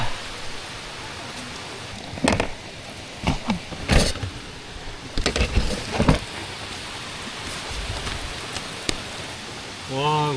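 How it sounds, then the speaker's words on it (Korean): Heavy rain falls steadily over a forest campsite during a downpour, a constant hiss broken by louder close drips and gusts; a brief voice surfaces near the end. "근데 빗소리는 되게 좋네요"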